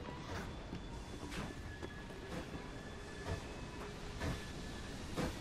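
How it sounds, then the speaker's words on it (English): A train pulls out of a station in the video game Assassin's Creed Syndicate, giving a faint, steady rumble with regular clickety-clack wheel beats repeating roughly every second, with no talk over it. "A train is leaving the station."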